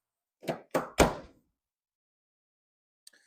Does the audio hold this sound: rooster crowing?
no